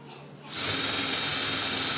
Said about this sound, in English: Oh, that's that crappy drill.